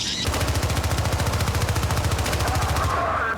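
Sustained automatic gunfire in the video game Syndicate, a steady rapid burst emptying a full magazine into armored enemies, loud and continuous for about three seconds.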